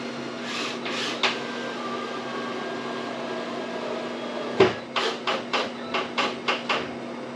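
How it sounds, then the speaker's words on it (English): Screws driven slowly into a thin wooden board while building a DIY doll house, heard as a string of short, close, evenly spaced scraping bursts, faint at first and then a quick run of about eight in a row, with no talking. "I'm putting these screws in very slow for 2 reasons."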